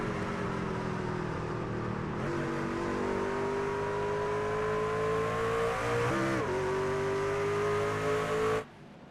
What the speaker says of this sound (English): He's trying different gears, trying to find the right RPM he wants to be at.